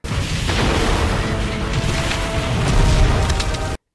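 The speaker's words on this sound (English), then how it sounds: "when explosions go off behind you" A loud explosion roars with a sustained, heavy broadband rumble lasting several seconds before cutting off abruptly.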